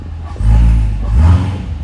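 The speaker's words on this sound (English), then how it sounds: "The NPP Performance Exhaust, of course, operated through here. So when we put it to track or sport" A 2017 Corvette with the NPP performance exhaust in track or sport mode, giving two loud, deep surges of exhaust rumble with a brief dip between them, close by and with no talking.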